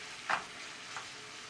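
Onion turning translucent in a frying pan gives a faint, steady sizzle, with two brief stirring scrapes near the start.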